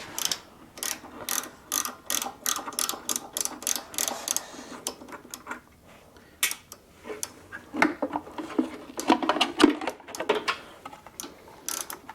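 A ratchet clicks in quick, steady bursts while loosening a part on a 1972 Honda CT90 K4 motorcycle, close and crisp, then gives way to scattered clanks and handling noises.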